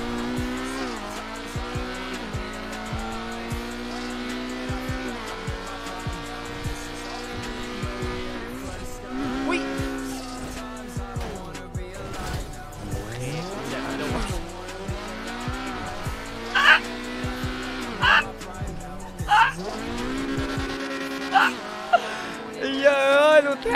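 Race cars, an Audi R8 and a McLaren, speed through GTA V with steady engine drone, shifting revs and bursts of tire squeal over about twenty seconds, while excited voices talk throughout.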